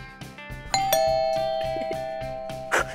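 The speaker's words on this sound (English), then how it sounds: "It sounded like a doorbell." Doorbell on a playground set giving a bright two-tone chime that rings out and sustains clearly, with light rhythmic background music underneath.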